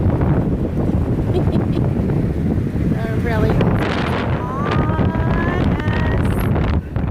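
Strong wind buffets the microphone on Galveston beach, a loud continuous roar throughout, with a voice speaking briefly partway through.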